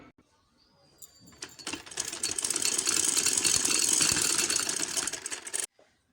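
A sewing machine stitches strips of fabric for a baby frock, a rapid mechanical clatter running for about four seconds at moderate volume before stopping abruptly.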